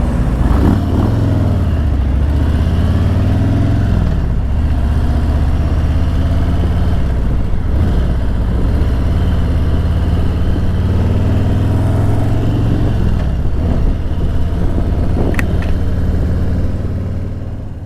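A Harley-Davidson motorcycle is ridden on the road, its engine giving a steady, loud low rumble with slight rises and dips in revs, close and continuous throughout without talk.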